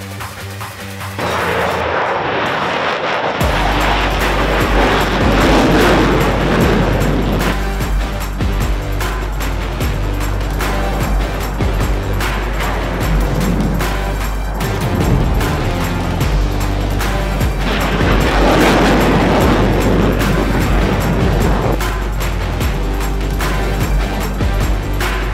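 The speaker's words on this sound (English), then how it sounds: "the most amazing display of jet noise on the planet" Thunderbirds demonstration team military jets taxi and take off, a loud continuous roar with deep rumble that swells and recedes in waves over about twenty-five seconds, with no talking.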